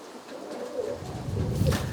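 Burkitt strain roller pigeons coo softly and close by in a loft, a few low murmuring calls rising over faint background rustle.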